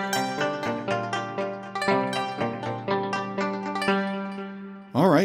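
Padshop 2 synth arpeggio pattern, a clean, even sequence of bright plucked notes stepping in a repeating rhythm, changed with the mod wheel, ending in a brief wavering swell.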